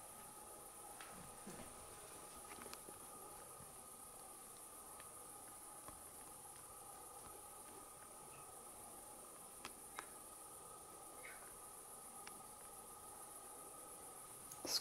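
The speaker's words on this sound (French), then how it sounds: "Ce qu'on entend derrière, faut le dire, hein, c'est le crapaud." Steady night chorus of toads outside an old manor, a constant high trilling drone over faint background hiss, with a few soft clicks and taps and no talk.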